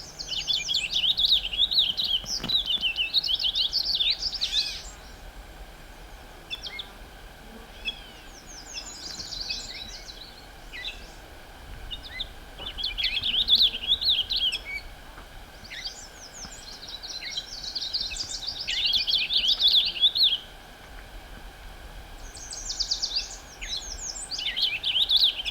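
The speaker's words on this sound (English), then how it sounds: "I really do like the song of the purple finch." A purple finch sings bright warbling phrases in repeated bursts, separated by short pauses, moderately near against a quiet outdoor background at Plum Island.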